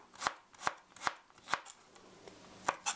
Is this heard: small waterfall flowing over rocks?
no